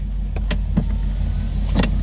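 A steady car cabin hum in a Maserati Quattroporte S with the electric rear sunshade motor whirring briefly, plus a few soft clicks and knocks from the moving shade.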